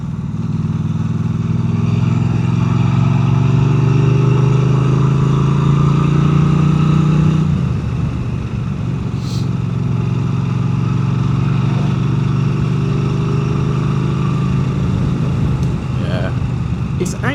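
Norton 961SP Commando motorcycle engine while riding, a loud, steady low drone that drops in pitch partway through as the rider eases off, then holds under the wind, with someone talking over it.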